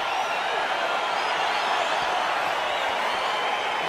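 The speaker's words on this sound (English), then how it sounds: "crowd getting excited as this fight gets underway" A large arena crowd at UFC 285 roars steadily as a fight gets underway, a dense, loud, continuous wash of cheering without breaks.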